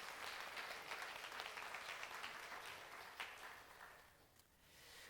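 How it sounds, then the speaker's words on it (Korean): A church congregation applauds the parents of the church: faint, distant, sustained clapping that swells briefly and then dies away near the end. "박수하겠습니다"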